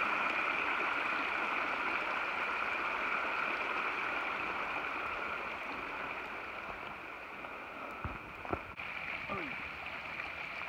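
The Kennebec River flows steadily as a broad, continuous rush of water heard up close along the Appalachian Trail, with a few faint knocks near the end.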